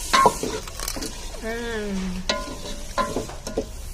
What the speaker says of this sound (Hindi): 5 मिनट फ्राई करेंगे।